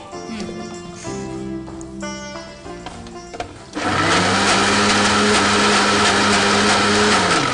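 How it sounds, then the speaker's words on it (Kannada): A mixer grinder runs dry, grinding roasted ingredients without water for a home-cooked dish, starting abruptly and holding a loud, steady whirring roar after a stretch of clattering, with faint speech at the start. "ಇದನ್ನ ನಾನು ಗ್ರೈಂಡ್ ಮಾಡ್ಕೊಳ್ತೀನಿ. ಇದಕ್ಕೆ ನಾನು ನೀರೇನು ಹಾಕ್ತಾ ಇಲ್ಲ"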